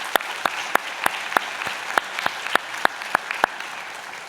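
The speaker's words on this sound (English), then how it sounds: "Please give yourself a round of applause." Sparse, scattered applause from an audience at a graduation convocation, with a few distinct sharp claps ringing out at a steady pace against a quiet, faint background.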